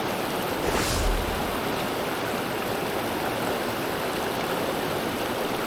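Mountain river water flows steadily over rocks on Little River in the Great Smoky Mountains, a continuous broadband rush without a break, close and fairly loud, with no voices.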